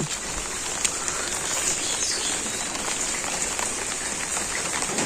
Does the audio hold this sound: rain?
yes